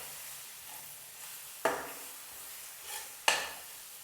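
Ginger garlic paste fries in a pan with tomatoes, a low continuous sizzle broken by two sharp scrapes or stirs of a spoon against the pan.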